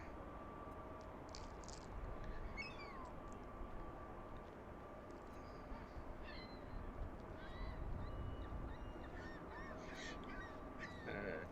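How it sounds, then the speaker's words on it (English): Gulls call repeatedly overhead at an airport, faint-to-moderate cries scattered over a steady outdoor rumble of aircraft and wind. "Got a bunch of seagulls flying around here making noise."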